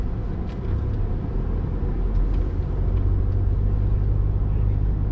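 A four-wheel-drive vehicle drives along the sand at Boca Chica State Park beach, its engine and tyres making a steady, heavy, close rumble that continues without a break.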